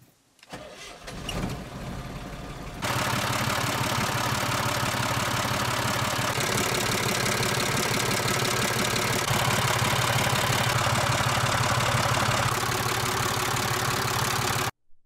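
A Perkins diesel engine in a Tarpan vehicle cranks and catches, then settles into a loud, steady, rough idle that runs continuously for over ten seconds.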